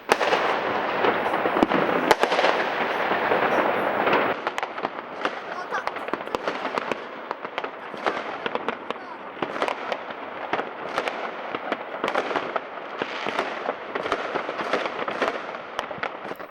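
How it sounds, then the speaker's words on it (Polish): Dense New Year fireworks burst over a city just after midnight, a continuous crackling barrage of pops and bangs from near and far, with crowd voices faintly mixed in throughout. "Witanie nowego roku fajerwerkami to wciąż chętnie kultywowany zwyczaj."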